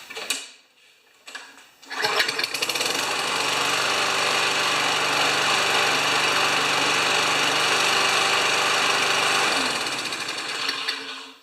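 A Toro Recycler lawn mower engine starts up after a couple of brief knocks and runs steadily and loud for about eight seconds, a rough buzzing drone, before winding down at the end.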